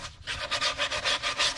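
Rhythmic back-and-forth rasp of sandpaper rough-sanding a wooden ukulele body, about eight even strokes in quick succession, close and steady with no voices.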